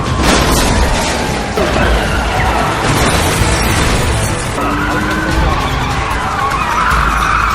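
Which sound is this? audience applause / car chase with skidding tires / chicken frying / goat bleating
car chase with skidding tires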